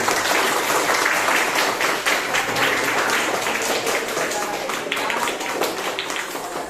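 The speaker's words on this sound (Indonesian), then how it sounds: "Oke, tepuk tangan dulu untuk kita semua" Classroom students clap together in a dense, continuous burst of applause, loud and close, holding steady before tapering slightly.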